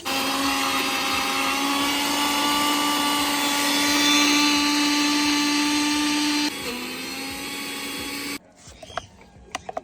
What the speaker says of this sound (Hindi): तो इसको अब हम कर रहे हैं मिक्सी में ग्राइंड